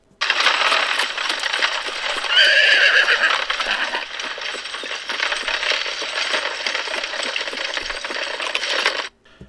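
Horses pulling a stagecoach neigh and whinny loudly as the coach sets off, with steady clip-clopping hooves and rattling carriage noise running continuously for about nine seconds before stopping abruptly.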